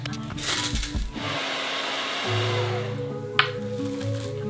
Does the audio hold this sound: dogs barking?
no